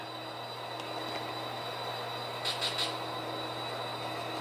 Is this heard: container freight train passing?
yes